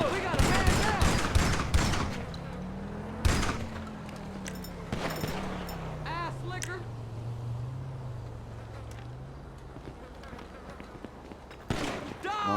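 Sharp gunshots ring out in a GTA V Online firefight: a burst at the start, then single cracks spaced through the middle and a final shot near the end, under a droning engine-like hum with a voice talking.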